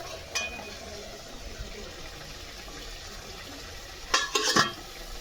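Kadai chicken stirred in a pan, a faint simmering hiss under a few soft scrapes, then a cluster of sharp clanks and scrapes from a spoon against the metal pan near the end.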